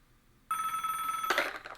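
An old-fashioned telephone bell rings steadily in a quiet room, a single sustained ring starting after a brief silence, loud and close with bright harmonic tones and no talk over it.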